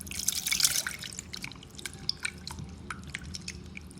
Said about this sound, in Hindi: दोबारा से पानी डालूंगी मैं इसमें।